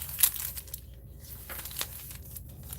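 Close, dry crinkling of thin coffee-stained tracing paper being handled, with a sharper crackle near the start and softer rustles after it.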